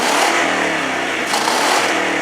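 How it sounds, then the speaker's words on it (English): A Ford Crown Victoria engine warming up, running steadily with a continuous loud mid-pitched rumble and a slight rise in revs partway through, heard close with no talking. "Now I got my car, I'm over here just warming it up."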